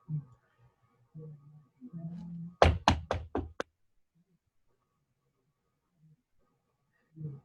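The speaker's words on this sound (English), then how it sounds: "I will knock on the herb door first to see if anybody's in there." Someone knocks on the herb door of a house, a quick burst of about five firm knocks, fairly close and loud, followed by silence. Faint low murmurs and shuffling are heard before and after.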